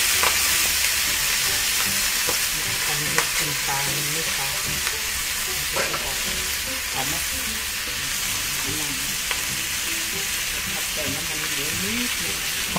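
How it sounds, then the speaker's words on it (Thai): Pieces of shark fish stir-fry in hot oil with curry paste, a steady loud sizzle with scraping stirs, while a voice talks intermittently over the cooking. "แล้วก็เอาปลาลงไปลวนในน้ำมันอีกทีนึง"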